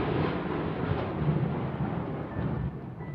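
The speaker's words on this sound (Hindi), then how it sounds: "और तभी हमें कहीं जोर से बिजली गिरने की आवाज सुनाई दी" Thunder strikes and rumbles in a long, heavy roll with rain hissing steadily underneath, loud and continuous with no voices.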